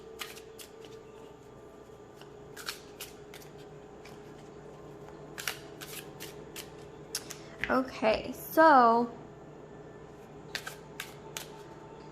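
Tarot cards are shuffled by hand in short riffling bursts that grow busier toward the middle, between scattered clicks and taps, with a voice speaking briefly near the start.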